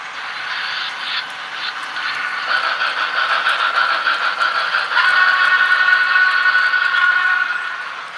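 A model auto train runs along a layout track built on wood or foam with cork, giving a continuous close rattling and scraping roll that grows slightly louder, with a faint whining tone in the second half.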